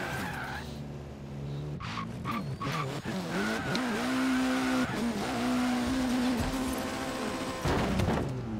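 Video game Lamborghini engine revving hard while pulling a reverse wheelie, with rising and falling engine notes and tire squeal, loud and continuous with no talking.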